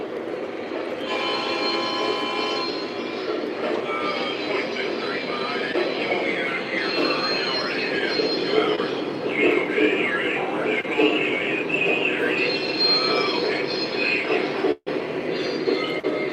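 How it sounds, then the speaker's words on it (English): A Lionel toy train runs steadily on its track, its wheels giving a continuous rolling clatter with some metallic squeal and ringing tones, while faint voices murmur in the background. "you hear how it has the clickety clack"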